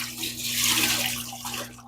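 Tap water pouring into a parts washer tank, a brief steady rushing splash with a faint low hum underneath, close by.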